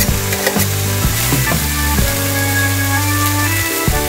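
Fish heads and raisins frying in a pan with oil, a loud crackling sizzle broken by several stirring scrapes and clatters, with no talking.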